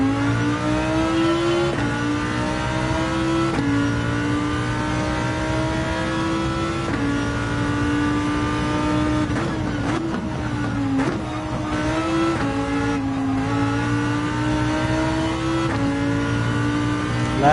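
A Lamborghini's engine drones loud and steady on a racing track in Gran Turismo 7, pitch climbing through each gear before dropping at the shifts, with no talk over it.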